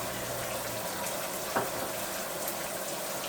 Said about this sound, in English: And I'm washing my hands.